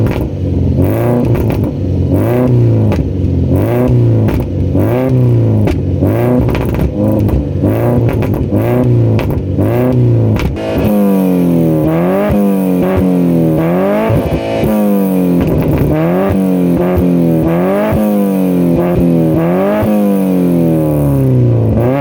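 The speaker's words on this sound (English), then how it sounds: "let's get some revs so you guys can see what it sounds like now" A modified Ford Figo with an upgraded aftermarket exhaust revs hard through its pipes: a loud, close engine drone, then a string of quick throttle blips that rise and fall roughly every second, with no talking.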